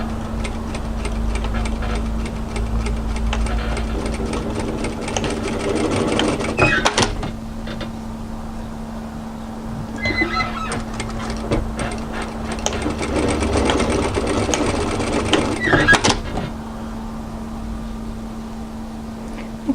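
A sewing machine stitches down a kaftan draw cord in several bursts of rapid mechanical whirring and clatter, pausing briefly between runs, with a steady hum underneath.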